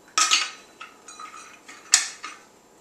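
A spoon works walnuts into a lambsquarter and miso spread in a bowl, giving close, uneven bursts of scraping and clinking, two stronger strokes followed by lighter ones.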